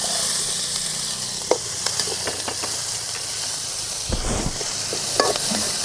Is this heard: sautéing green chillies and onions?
yes